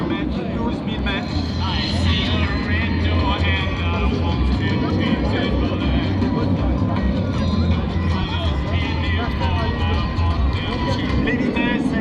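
An F-86 Sabre jet performs a display at the Gap-Tallard air show, its engine a continuous loud roar and whine that holds steady throughout, with an announcer's voice talking over it.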